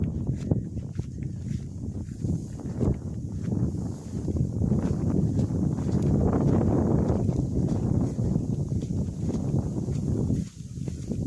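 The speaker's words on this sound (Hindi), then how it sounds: "ये देख सकते हैं हवा चल रही है बहुत तेज़" Strong wind gusts buffeting a microphone in open paddy fields under cloudy skies, a continuous loud low rumble with brief dips, close and rough, with no voices.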